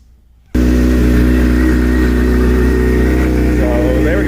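After a quiet moment, a 2006/2007 Suzuki GSXR 600/750 motorcycle engine with a new stator and rectifier bursts into a loud, close, steady run and rises in pitch as it revs.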